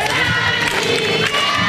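Dense crowd roar of cheers and shouts at a night carnival parade in Basse-Terre, loud and continuous over a brief moment, the clapping buried in the din.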